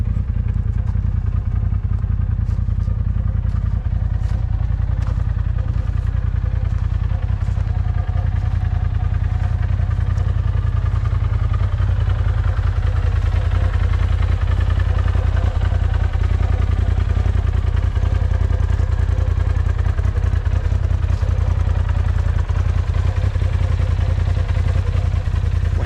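A Polaris RZR Pro XP turbo side-by-side runs continuously up close, its engine a loud, deep, steady rumble with a rattling clatter on top.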